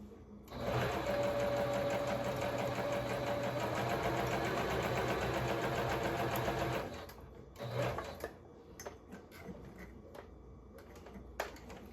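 A sewing machine runs steadily for about six seconds while stitching fabric doggy bow ties, then stops, leaving brief clicks and handling noises of the fabric and machine.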